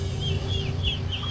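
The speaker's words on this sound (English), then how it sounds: "The domestic turkey is definitely not as smart as your wild turkey." Domestic turkeys on a farm give a run of short, repeated calls, clucking and gobbling a few times in quick succession over a steady low background hum, fairly close.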